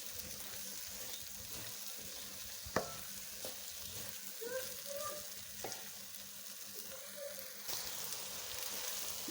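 Eggs fry in a pan with a steady, quiet sizzle throughout, joined by occasional soft stirring scrapes and a single sharp clink; no one speaks.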